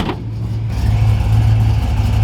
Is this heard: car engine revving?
yes